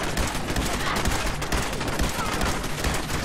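Dense, continuous gunfire from the video game Fallout 4, a loud sustained barrage of rapid shots and blasts filling the whole stretch with no talk over it.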